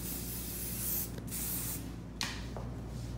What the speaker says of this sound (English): Seal it up, and you just spray it on.